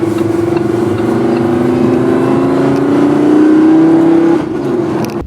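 A Lamborghini Huracán Spyder's engine holds a loud, steady close-up drone that climbs slowly in pitch, then drops and blips at the end as it downshifts, with no voices over it.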